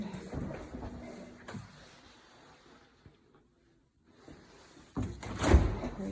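A household refrigerator-freezer door in a kitchen swings open and shut, with a few nearby thumps and rattles, a quiet pause, then a louder close and seal thud near the end.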